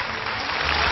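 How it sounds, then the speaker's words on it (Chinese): Audience applause for four young children after their little-swan dance on a Chinese family TV show stage, a steady, dense wash of clapping sustained throughout without talk. "再次把掌声送给可爱的四小天鹅"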